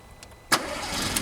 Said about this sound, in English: I'm going to switch the engine on